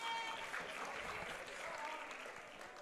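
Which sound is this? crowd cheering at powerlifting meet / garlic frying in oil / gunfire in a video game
crowd cheering at powerlifting meet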